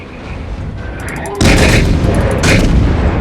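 Heavy naval guns firing high-explosive shells in the World of Warships naval combat game, two loud broadband blasts with rumbling tails, the first about one and a half seconds in and the second a second later, over steady game background noise.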